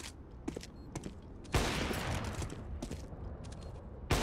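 AK rifle fire in CS:GO on the Overpass map, faint distant clicks leading into a long loud burst of shots and then a sharp final crack, with no voices.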